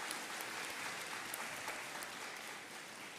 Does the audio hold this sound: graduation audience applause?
yes